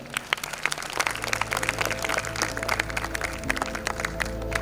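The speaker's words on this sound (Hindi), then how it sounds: "तालियां प्रतीक है किसी के सम्मान के लिए" An audience at a school Independence Day celebration applauds after a speech, a dense, steady wash of many hands clapping close by for several seconds.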